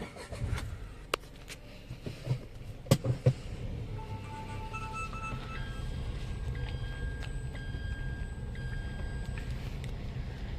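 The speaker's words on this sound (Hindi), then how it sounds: "बट मैं गाड़ी थोड़ा आगे करता हूँ, फिर मैं आपको दिखाता हूँ।" A Tata Punch car is driven slowly forward at night, its engine a low steady rumble throughout with a few clicks and knocks early on and faint electronic tones later.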